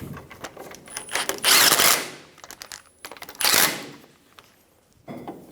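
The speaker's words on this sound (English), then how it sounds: "Snug the bolts down." A ratchet snugs down the bolts through the ball joint bracket into the knuckle during a front CV axle replacement on a 2005-2010 Toyota Tacoma, heard as two loud, close bursts of rapid clicking and a shorter third burst near the end.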